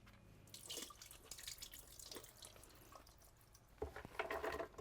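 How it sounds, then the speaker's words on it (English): Cannellini beans are rinsed under a running kitchen tap, faint splashing and trickling water with short gushes and a louder burst of flow near the end, heard alone without talk. "Give them a nice little rinse."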